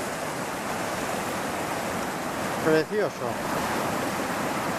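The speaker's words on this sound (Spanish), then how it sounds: "de ahí sale el agua, del río Burón." Spring water gushes from the source of the Purón river in Asturias, a constant close rushing wash with a brief spoken word partway through.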